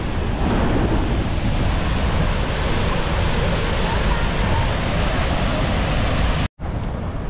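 Roaring water of Niagara Falls heard from close beside the falls, a loud continuous rushing wash with wind noise, broken only by a momentary cut near the end.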